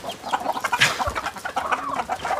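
Hens clucking in a hen house, busy overlapping clucks and squawks close by with a brief louder call, continuous throughout.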